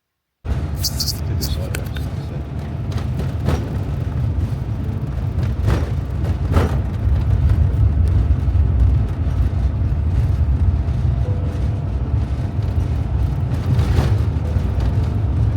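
A car pulling away on a road trip in Wales, steady low engine and road rumble continuing throughout with occasional knocks and rattles, someone talking over the drive.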